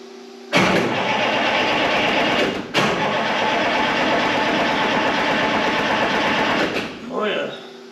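A Detroit Diesel 453T engine in a 1976 Ford F250 cranks over steadily for about six seconds, loud and close, with a brief pause near the start before cranking resumes, then winds down at the end.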